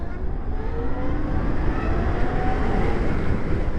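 A 2023 Zero FX electric motorcycle rolls over gravel, a dense continuous crunching rumble from the tires with a faint whine from the electric drive, close and steady throughout without speech.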